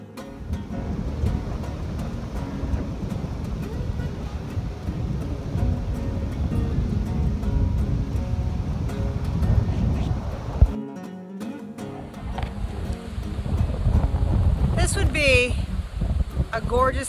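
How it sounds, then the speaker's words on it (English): Steady wind blows across a car camping spot on an island, a broad rushing roar with gusts buffeting the microphone, easing briefly before building again. "I think it's a little windy all the time"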